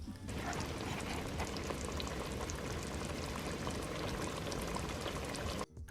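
Beef oxtails with fresh thyme simmer in water in a covered pot, giving off a steady, close bubbling and burbling that stays even throughout before stopping abruptly at the very end, with no voices.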